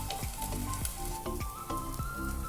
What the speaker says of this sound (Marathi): आता हे झाकण ठेवून आपण आता छान खरपूस भाजून घेणार आहे एक साईडला